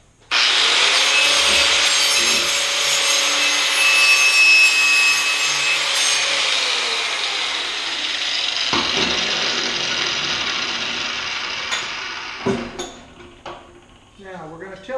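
A 4.5-inch angle grinder with a knotted wire wheel scours a forged oak-branch workpiece. The loud, steady whirring scrub runs for about eight seconds, then winds down and gives way to scattered metallic clinks and handling noises.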